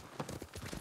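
Horse hooves clip-clop in a video game set in feudal Japan, a brief run of soft rhythmic hoofbeats, fairly faint.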